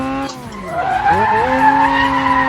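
A Mazda RX-7 FD3S with a boosted engine drifting in Assetto Corsa, tires squealing loudly and continuously with a shifting, wavering pitch as the car slides, engine tone blended underneath.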